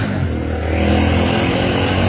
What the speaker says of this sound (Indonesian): Ada suaranya motor Mas